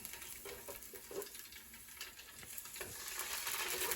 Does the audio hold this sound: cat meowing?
no